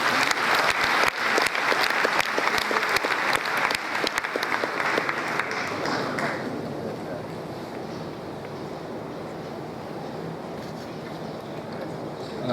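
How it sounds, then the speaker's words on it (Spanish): An audience applauds the rabbi at a Jewish community panel event, a dense burst of clapping for about six seconds that then fades into quieter room noise and murmuring. "Un aplauso, por favor, para el rabino."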